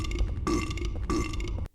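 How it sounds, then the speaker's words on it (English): Two loud, gurgling belches from an enemy creature in a Silent Hill video game, each lasting about half a second, separated by a brief gap and ending abruptly. "some of the enemies fucking belch when you hit them"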